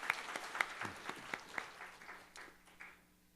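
A church congregation claps in scattered, fading applause, the sharp claps thinning out over a few seconds in a large room.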